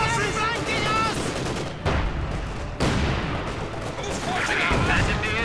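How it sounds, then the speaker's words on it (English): Machine guns rattle in the Company of Heroes 2 real-time strategy game during a 1v1 match with Panzer IV and Grenadier units, dense continuous bursts with booms and a voice talking over the gunfire. "Machine guns rattling away."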